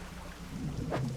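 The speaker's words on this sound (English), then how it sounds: "It's raining." Faint video game rain hiss with a low rumble of thunder building toward the end, brief and distant-sounding.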